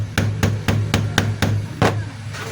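A hammer strikes a screw on a DeWalt DCD7781 cordless hammer drill to loosen it, seven evenly spaced sharp knocks in quick succession, close and alone.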